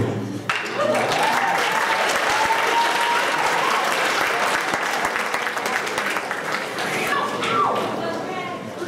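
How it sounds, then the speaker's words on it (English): A crowd applauds at a live performance event as a performer takes the stage, thick sustained clapping at full strength for most of the stretch, with a few cheers and whoops near the end before it begins to thin. "I think we can give him a round of a round of applause as he comes up"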